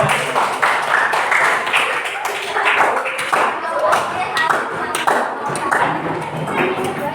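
A classroom group in a teacher training workshop claps in a dense, lively burst of applause that carries on steadily, with a few voices calling out over the clapping.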